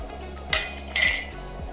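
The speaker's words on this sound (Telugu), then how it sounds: "మసాలా దినుసులు కాస్త వేగాక ఇందులోకి ఎండుమిరపకాయలు వేసుకోవాలి" Dry whole spices roasting on a low flame in a pan for coconut sambar, stirred with a utensil: two short, bright scraping strokes against the pan over a quiet, steady background, with no talk.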